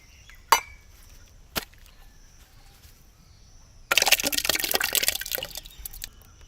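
Liquid poured for homemade popsicles, a steady splashing pour that starts partway through after a couple of sharp knocks, fairly close and moderately loud.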